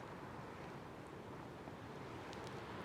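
Wind blows outdoors as a steady, faint broadband rush, unbroken and alone for a few seconds.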